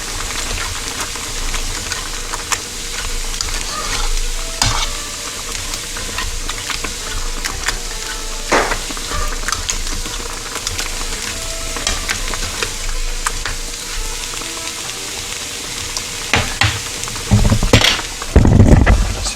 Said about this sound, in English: you want to slightly saute. You don't want to caramelize or brown